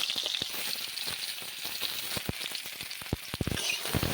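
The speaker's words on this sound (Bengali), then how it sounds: "তারপর পটলগুলোকে আমি একটু কড়াইতে তেল দিয়ে ভালো করে ভেজে নেব।" Stuffed pointed gourds fry in hot oil in a wok, giving a steady loud sizzle with scattered sharp pops and crackles throughout.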